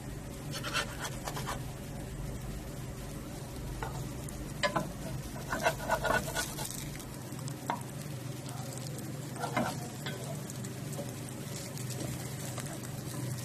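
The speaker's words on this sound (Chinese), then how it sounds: "我们开始来煎这个乡村饼" Potato pancakes with Chinese toon leaves and cheese fry in oil over moderate heat, giving a steady low sizzle with scattered soft scrapes and taps from a utensil, and no talking.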